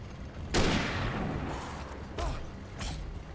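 Two heavy gunshots from a hunting rifle in the Alan Wake video game, each a loud close blast with a long rumbling tail. The first comes about half a second in and the second follows roughly 1.7 seconds later.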